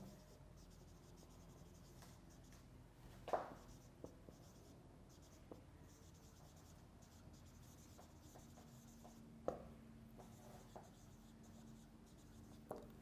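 Faint scratching and a few soft taps of writing on a board during an English grammar lesson, quiet and fairly distant, with no talking during the stroke sounds.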